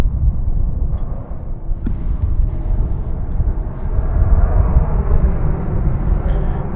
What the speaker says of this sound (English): Incoming from Salt Lake City, it is American Flight 2195, an Airbus A340.